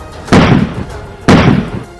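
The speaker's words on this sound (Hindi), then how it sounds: "पुलिस की तरफ से छोड़े गए आंसू गैस के गोलों की वजह से वहां तेज धमाके जैसी आवाजें सुनाई दी" Two loud, sharp blasts about a second apart, each with a booming burst that rings out and fades, like shells exploding nearby. Police tear gas shells fired at a farmers' protest near Delhi.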